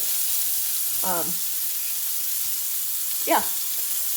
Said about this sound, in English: So there, it's in the pan, just pushing it down a little bit